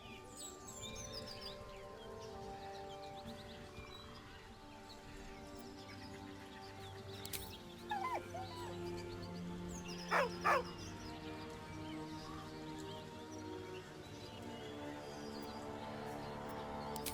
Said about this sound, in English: With a deep, heartbroken whine, the dog bows his head. He whines, but remains rooted